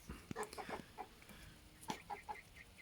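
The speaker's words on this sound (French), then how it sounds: "c'est un très beau coq Sussex" A Sussex rooster clucks softly in a backyard poultry run, a series of short, faint, irregular clucks over quiet outdoor background noise, with no talking.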